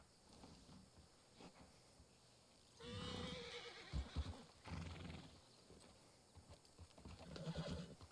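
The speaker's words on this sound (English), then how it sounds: "Crazy ass horse." A horse named Nightmare, agitated and restless, lets out a loud whinny and stamps its hooves in a few clip-clops, with quieter shuffling before and another burst of neighing and hoof noise toward the end.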